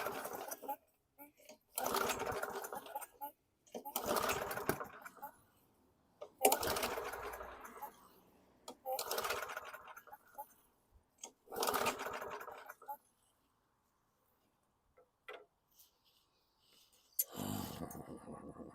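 A 2010 Yard Machines walk-behind push mower engine runs rough, surging in about six uneven bursts separated by near-silent gaps, with a short final burst after a long pause.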